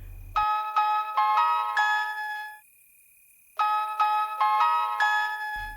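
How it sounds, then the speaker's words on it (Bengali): A phone ringtone sounds at night in a Bengali detective audio drama: a bright melodic chime pattern plays, stops for about a second, then repeats, clear and alone. "রাতের বেলায় হঠাৎ ফোন বেজে ওঠে।"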